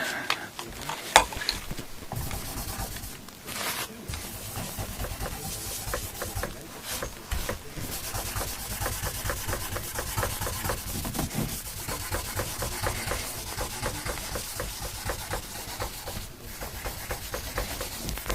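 Oil being rubbed into the fretboard of an Electra guitar during a refret: a steady, continuous close-up scrubbing and rubbing texture with brief pauses, no talking.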